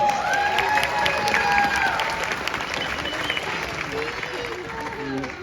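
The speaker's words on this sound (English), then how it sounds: "Give a round of applause." Audience applause at a Cobra Kai convention panel in Atlanta, a steady wash of clapping with some cheering that holds fairly loud throughout and eases slightly toward the end.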